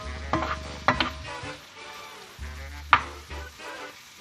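Vegetables sautéing in a kitchen pan for keto dirty rice, with a steady low sizzle and a few sharp stirring scrapes and clinks spaced through the stretch.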